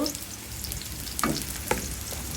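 Garlic frying in hot oil for a Bengali brain curry, a steady close sizzle with a couple of brief stirring scrapes.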